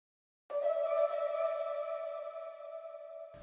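Sampled vocal shot in a pop song production, a single sustained tonal vocal hit with a delay effect, ringing on and slowly fading with spacious echo tails, alone without other talk.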